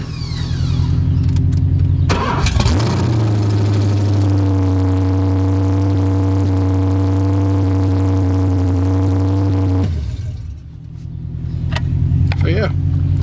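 A loud LS1 V8 engine swapped into a Nissan S14 starts with a crank, then idles steadily with a deep rumbling hum before cutting off, followed by a brief restart.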